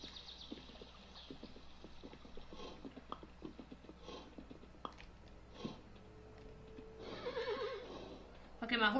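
A horse whinnies in the video game Kingdom: New Lands, with a busy mix of clopping and small effects, a louder swell near the end.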